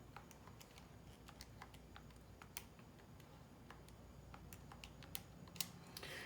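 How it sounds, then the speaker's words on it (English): Someone types a function into a graphing calculator: a quiet, irregular series of small plastic key clicks over a faint steady background hiss, with no talking. "I'm going to type the function into my graphing calculator"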